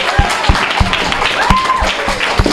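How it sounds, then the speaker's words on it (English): An audience at a school drama performance about bullying gives a loud round of applause, with dense clapping and some voices and whoops mixed in. "let's give a round of applause first for Shayla."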